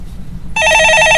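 A telephone rings in a Korean stock-market call-in studio: after a brief quiet lead-in, a loud, bright electronic trill begins and continues steadily.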